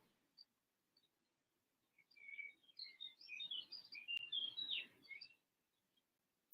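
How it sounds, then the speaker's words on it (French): Small birds chirp and trill in a quiet outdoor setting, with short bright calls clustering into a busy burst of song over a few seconds before fading, fairly near and soft. "Écoutez ces oiseaux chanter."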